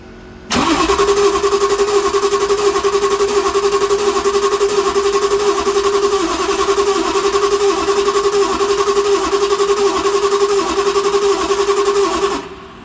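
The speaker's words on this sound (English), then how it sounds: "Now we're going to go ahead and crank the engine" A VT365 diesel truck engine that had died cranks continuously for about twelve seconds, with a loud, steady starter whine and a rapid churning rhythm and no catch, heard on its own.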